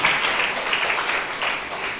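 A church congregation claps loudly together in a dense, continuous burst of applause that stays strong from start to finish, with no voices on top.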